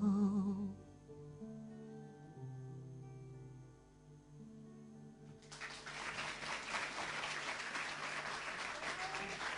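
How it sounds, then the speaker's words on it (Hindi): Audience applause breaks out after a song performed by two young contestants on a TV talent show, a dense broadband clapping that swells up over the fading music and continues steadily to the end. "ईशान और साक्षर के लिए तो आप सब ने तालियां मार दी हैं"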